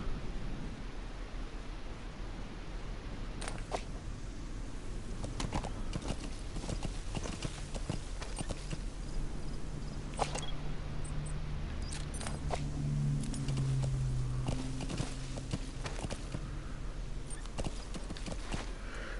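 Steady clip-clop of horse hooves trotting at a regular pace in the video game Metal Gear Solid 5: The Phantom Pain, close and clear, over a low ambient hum with no talking.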